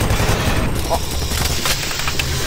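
Gunfire in the video game Doom 3: Resurrection of Evil, a brief, loud, steady stream of rapid shots mixed with heavy low rumble and game effects.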